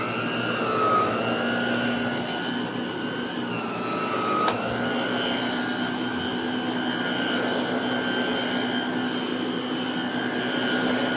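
An Electrolux Renaissance vacuum cleaner running steadily nearby, a loud constant motor whine with a high-pitched tone that wavers slightly early on, alone without talk.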